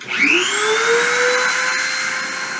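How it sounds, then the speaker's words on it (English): A CNC spindle spins up during a deposition run, a loud, close whine that rises quickly in pitch and then holds a steady high tone with a smooth mechanical hum underneath. "let's start the spindle and start the deposition"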